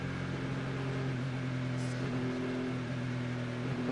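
A race car's engine drones steadily at the Bahrain 8 Hours endurance race, a continuous hum heard faintly from a distance with little change in pitch.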